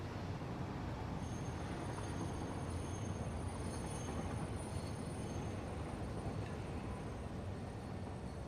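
Steady rumbling of a train running on rails in the Satisfactory video game, a continuous dense roar with faint high whine, constant and fairly quiet throughout with no talk.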